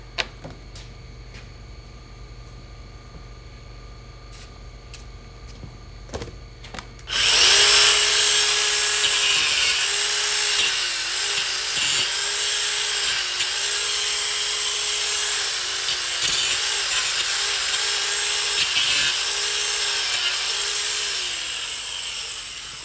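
A power grinder takes down the wood of a Spy Hunter arcade cabinet: after a few quiet knocks it starts loud and close, a steady high whine with rhythmic dips in pitch as it bites, running for about fifteen seconds.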